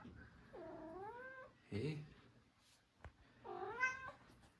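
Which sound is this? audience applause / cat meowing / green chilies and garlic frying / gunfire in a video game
cat meowing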